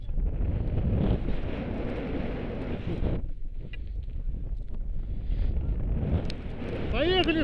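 Blizzard wind sweeping a town ski slope in Kirovsk, roaring and buffeting the microphone in heavy gusts that ease briefly midway, loud and close, with faint voices underneath.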